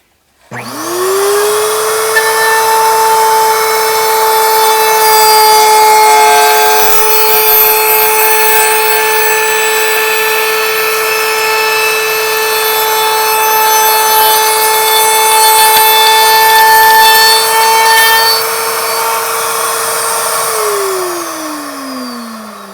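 A router bit cutting wood on a pin router table copier jig, a loud, steady high whine that spins up quickly, grinds continuously for about twenty seconds, then winds down.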